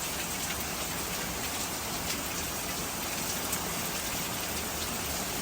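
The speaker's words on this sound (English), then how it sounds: "It's really raining hard now, though." Heavy rain pours down steadily over a soybean and corn field, a dense, constant hiss with no pauses, loud and close, and no voices.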